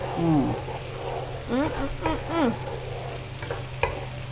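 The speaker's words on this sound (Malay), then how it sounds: "sekejap kita goreng sekejap" Sizzling and stirring of chili in a hot pan, a steady frying hiss with clattering scrapes and a few sharper clicks, close by with no talk.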